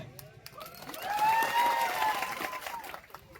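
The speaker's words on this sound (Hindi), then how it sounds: "आपने ताली बजा दी" An audience claps during a public political speech, a rush of many hands swelling in the middle and then easing, with a murmur of voices mixed in.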